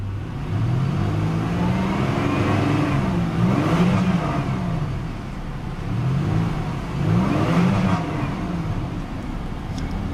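A 2002 Pontiac Grand Prix GT engine revs in park against a rev limiter set near 4,000 rpm, rising and falling in two clusters of quick blips over a loud, steady idle heard close up.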